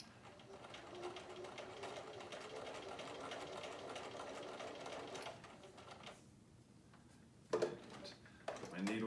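Sewing machine stitching a fabric sleeve in a draping session, a steady close mechanical whirr running for about six seconds, then stopping before a few soft handling clicks and bumps.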